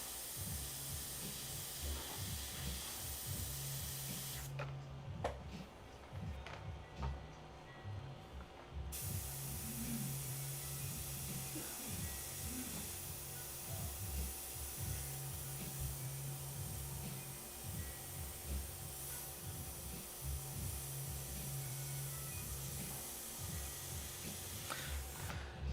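An airbrush sprays in a long steady hiss across the whole stretch, close and fairly even, with a low hum and faint clatter underneath and a brief quieter patch partway through.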